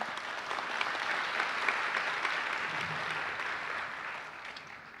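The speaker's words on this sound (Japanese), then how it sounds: "再度皆さんの拍手で確認したいと思います。" Conference audience at the Hiroshima World Conference against Atomic and Hydrogen Bombs applauding in a large hall, a soft, even roll of many hands that fades slightly toward the end.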